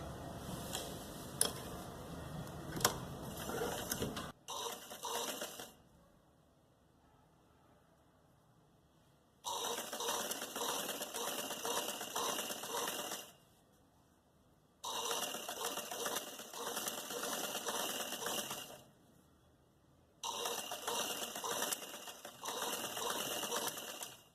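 Sewing machine stitching salwar trouser fabric in long mechanical bursts, a loud steady whirring clatter that runs, stops briefly, and starts again several times with quiet gaps between runs.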